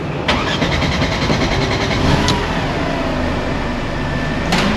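A Mercedes car engine cranks and catches, then settles into a steady close idle after a few sharp clicks, loud and alone.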